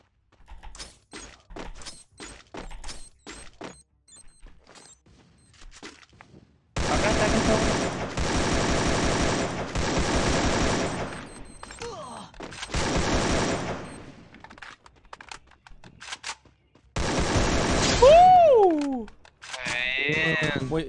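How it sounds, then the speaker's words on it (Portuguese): Bursts of rapid video game gunfire, some short and sparse, others long and loud, with a few whooshing effects near the end. "tomando muitos tiros"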